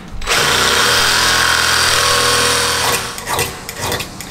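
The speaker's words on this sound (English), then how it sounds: "now I'll move over to start to drill that." A loud power drill whirs steadily for a few seconds, then spins down with some rattling and clatter as it stops.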